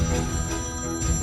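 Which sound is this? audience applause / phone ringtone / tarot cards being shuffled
phone ringtone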